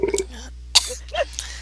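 Someone burps, a short guttural eructation among other brief throat and mouth noises, close and fairly loud in a quiet room.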